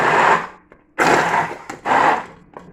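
A hand blender whirs in three loud, close bursts of about half a second to a second each, separated by brief pauses, while blending stock ingredients with minced chicken in a kitchen.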